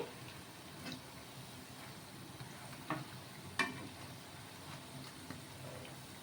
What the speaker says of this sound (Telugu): ఈ వడలు వచ్చేసి ఫ్రై చేసేసుకోవాలి